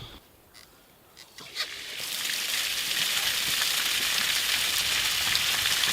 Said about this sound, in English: Let's go ahead and turn on some water in here.